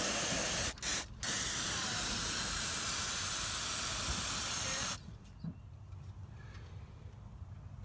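A steady, close hiss of aerosol cleaner sprayed onto an oily Honda Odyssey engine runs for about five seconds with two brief pauses near the start, then stops, leaving quiet room noise.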